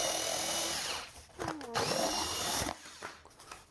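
A HOTO power tool whirs steadily as it cuts through a cardboard box, a continuous buzzing motor with rising and falling pitch and scraping, close and fairly loud, stopping briefly near the end.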